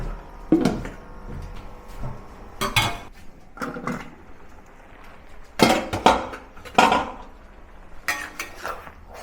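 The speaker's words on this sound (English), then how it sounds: "let's get a wok lid and let it braise for 5 minutes" Metal wok lid clattering and clanking onto a wok during braising of a vegetarian Buddha's Delight, several sharp separate knocks and rattles spread through the clip, close and clear with no talk.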